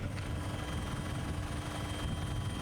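A helicopter drones steadily overhead at a powerboat race off the Dubai shore, a continuous low rumble with the thrum of the rotor.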